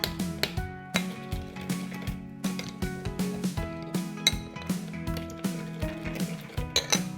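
A spoon clinks against a glass or bowl while stirring yeast and sugar: rapid, rhythmic, ringing taps repeated for several seconds, close and bright with no speech.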